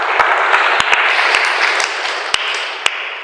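A crowd at a Minembwe gathering with officials bursts into loud, steady applause, a thick continuous clapping roar with a few sharp louder claps standing out.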